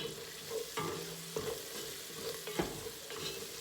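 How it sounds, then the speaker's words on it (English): A spoon stirs a vegan dish in a hot pan after cayenne goes in, soft scraping strokes over a quiet, steady sizzle, close and faint. "Stir that yumminess up."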